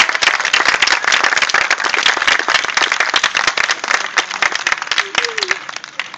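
Audience applause at a hypnosis show at the Georgia Renaissance Festival, a dense, steady burst of clapping lasting several seconds before tapering slightly, with a brief voice or whistle near the end.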